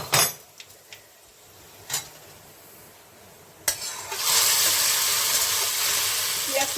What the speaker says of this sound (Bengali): এখন আমি ফোড়নটা খিচুড়িতে দিয়ে দেব